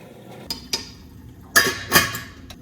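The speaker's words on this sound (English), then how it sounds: "And I'm gonna just stir up the noodle." A spoon stirs Korean hangover noodle soup in a pot, giving a few scattered metallic clinks and knocks with a pair of louder scraping clanks near the end.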